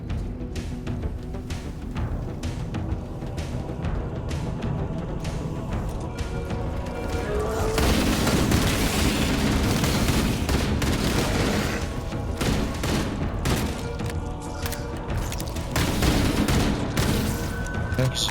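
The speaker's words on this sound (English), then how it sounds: "Use explosives on the other 3 reactors to destroy their cores." Repeated explosions and heavy gunfire rumble through a fusion reactor battle in the video game Halo: Campaign Evolved, a dense, loud barrage of booms that swells midway and keeps pounding with scattered bursts.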